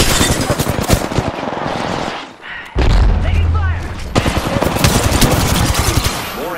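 Dense, loud automatic gunfire and bursts from a shooter match in Apex Legends, with a heavy low thump of a grenade blast near the middle and continuous firing around it; voices are faintly mixed in.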